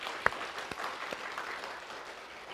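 Audience applause at a Buddhist sutra lecture in a monastery hall, soft and somewhat distant steady clapping with a few sharper claps standing out.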